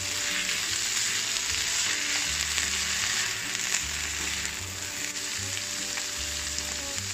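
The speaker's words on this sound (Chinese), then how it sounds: "再给它炒拌均匀。" Shark fin is stir-fried in a wok for an osmanthus egg dish, with a loud, dense, continuous sizzle and low tossing rumbles underneath, and no voices.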